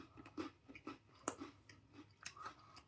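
Crunchy Swiss milk chocolate snack being chewed up close, a quiet series of irregular crisp crunches and bites with soft mouth sounds between them, no talking.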